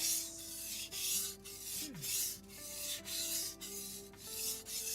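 Steel knife blade sharpened on a whetstone, with repeated rasping rubbing strokes in a steady rhythm, close and clear, plus a few faint background tones; no one talks.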